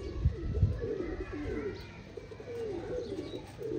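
Pigeons on a rooftop coo softly and steadily, close and moderately quiet against a low background hum, with no talking.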